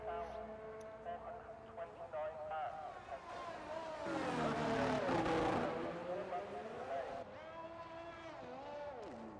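Racing car engine from a racing video game on a flying lap, a steady high harmonic whine rising and falling through gear changes, loud and continuous with a commentator talking over it.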